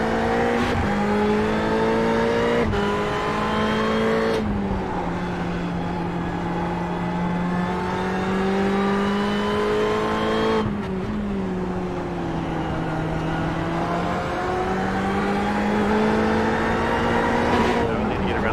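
Race cars in a sim racing league event at NJMP Thunderbolt, including a Ferrari, with engines screaming and shifting through gears in a loud continuous drone, while commentators talk over it.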